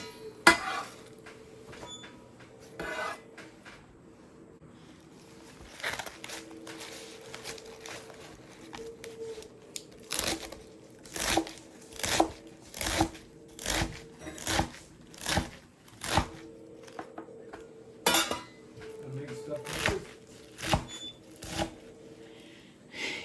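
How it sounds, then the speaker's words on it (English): Knife rapidly chopping kale on a cutting board for a stir fry, a run of sharp, evenly spaced chops close by, quickening into a steady rhythm with brief pauses, no talking. "This rapid cut is me cutting some more kale."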